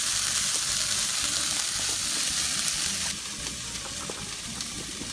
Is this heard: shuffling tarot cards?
no